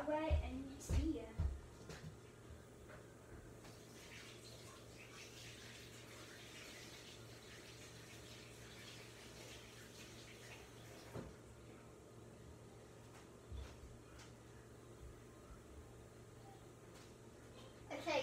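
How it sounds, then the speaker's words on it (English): Tap water runs steadily and faintly while hands are washed at a sink, a soft continuous flow with a few brief clunks and knocks near the start. "I'm just going to wash my hands up, clean that away"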